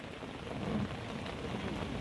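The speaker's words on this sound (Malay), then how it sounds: "King, apakah perasaan anda apabila camping dalam hujan?" Heavy rain falls at night at a wild campsite, a dense, steady downpour hissing and drumming without pause at an even level, with no voices.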